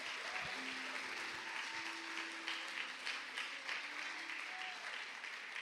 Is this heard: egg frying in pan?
no